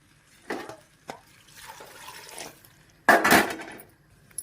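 Rice-washing water is stirred into a vegetable curry pot, giving a few separate sloshing, splashing bursts with a louder swirl near the end.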